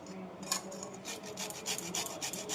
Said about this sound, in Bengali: আর কপিটাকে আমি একটু গ্রেট করে নেবো।